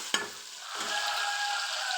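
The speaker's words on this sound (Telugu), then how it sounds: "అదే నూనెలో ఉల్లిపాయ పచ్చిమిరపకాయ వేసేసుకుందాం" Onion and green chillies dropped into hot oil, a sharp knock followed by a quickly swelling hiss of frying that holds steady and close, with no voices.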